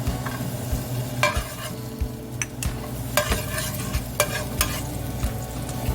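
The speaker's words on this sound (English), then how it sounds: "Okay, just go ahead and put garlic." Garlic frying in olive oil in a pan for shrimp lo mein, a steady low sizzle broken by repeated sharp scraping and clinking of a utensil stirring against the pan.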